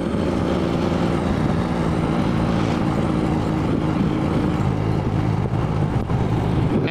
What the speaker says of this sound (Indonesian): Numpak motor bising ya.